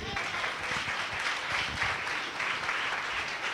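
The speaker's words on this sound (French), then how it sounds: "qu'on acclame pour la parole de Dieu." A church congregation applauding: steady, dense clapping from a large crowd filling the room for several seconds, sustained and even throughout.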